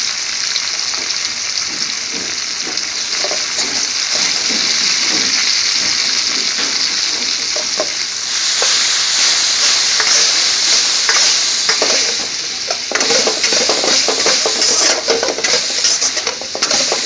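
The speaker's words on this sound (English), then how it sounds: "All the chopped onion goes in now." Chopped onion and salt sizzle and fry in a pan, a steady loud hiss with occasional stirring scrapes throughout, growing slightly brighter partway through; no talking.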